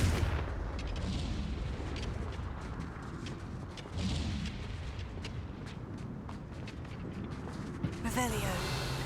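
A Confringo fire spell bursts in the Hogwarts Legacy video game, a booming blast among rapid crackling impacts and battle effects, with a sharp burst near the end; game voices speak throughout.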